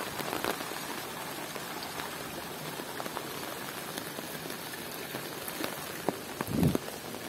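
Floodwater runs down a street in Temryuk, Krasnodar region, after a heavy downpour, a steady broadband rushing wash filling the whole clip, with a brief nearby splash near the end.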